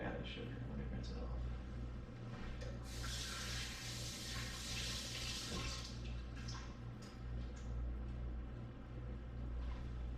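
Tap water runs into a sink as a cup is rinsed for dewberry wine making, a broad steady splashing rush that swells in the middle, with a low constant hum beneath.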